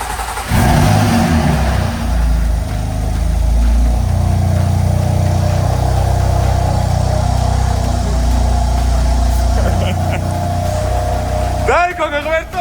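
A BMW M4 Heritage with a freshly installed engine roars loudly close by, a strong low throaty rumble that rises and swells with revs and holds steady, while voices break in briefly near the end.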